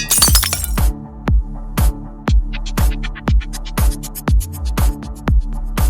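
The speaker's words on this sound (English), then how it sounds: "She scrambles away in fear and races to a window and kicks out the glass." Window glass is kicked out in an animated fantasy action film, a loud burst of shattering followed by a long rhythmic series of sharp crashing and clinking hits, close and dominant.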